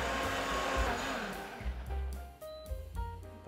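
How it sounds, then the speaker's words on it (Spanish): A blender whirs loudly as it blends corn cachapa batter, the motor roaring steadily before winding down and pulsing in short bursts toward the end, with no talking. "Vamos a licuar nuestra masa."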